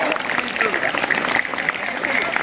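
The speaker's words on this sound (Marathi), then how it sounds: "जोरात टाळ्या होऊ द्या." Crowd applause at a school ceremony honouring Swami Vivekananda and Rajmata Jijau, dense and steady throughout, with voices mixed into the clapping.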